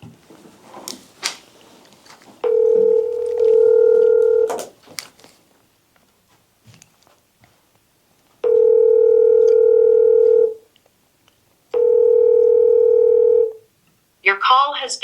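An outgoing phone call: three long, loud ringback tones with pauses between them, close and steady, with brief speech and muffled handling noises before the first ring and a voice starting at the very end.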